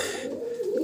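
Pigeons coo at close range, a short, low, throaty warble that holds steady and swells slightly at the end.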